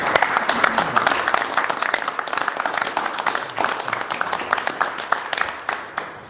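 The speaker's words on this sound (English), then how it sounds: "So I think you deserve a round of applause." Audience at a behavioral health commission report meeting gives a round of applause, uneven mid-sized clapping that gradually thins, with some voices underneath.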